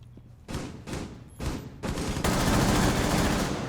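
Rapid gunfire from a video-game gun with no recoil: four quick bursts, then one long sustained stream of shots, loud and close, with no talking.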